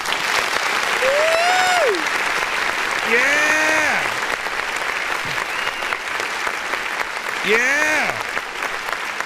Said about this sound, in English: Okay, clapping on it.